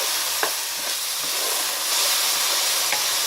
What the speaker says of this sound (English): And you get the sizzle.